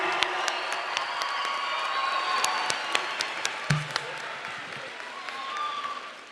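A crowd at a high school graduation ceremony applauds with scattered claps and cheering spreading through a large space, steady and moderately loud for several seconds.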